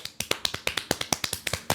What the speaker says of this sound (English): Clapping is the key.